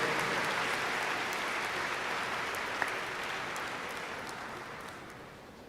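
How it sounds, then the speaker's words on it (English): Sustained applause from a commencement crowd honoring a college chancellor, a dense steady wash of many hands clapping that slowly tapers toward the end, with one sharp clap standing out midway. "Let's give him a big round of applause again"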